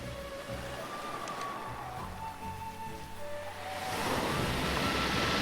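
Ocean waves wash and roar steadily, swelling louder toward the end, with a faint tonal hum underneath.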